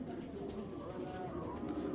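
Racing giribaz pigeons give soft, low cooing close by, a brief murmuring burst with faint background voices.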